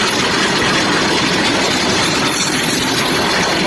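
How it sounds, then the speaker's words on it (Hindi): A driverless train running on its own along the tracks, a loud, steady rumble of rolling cars and engine noise with faint clickety-clack, constant throughout and close by. "देख रहे हैं, ड्राइवर नहीं ट्रेन में, दौड़े जा रही है"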